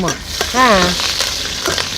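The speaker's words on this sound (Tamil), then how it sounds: "இந்த கடுகு வெடிக்கிற சத்தம் கேட்டாலே நல்லாயிருக்கு" Mustard seeds crackle and sizzle steadily in hot oil, close up, while a voice briefly chimes in over the frying.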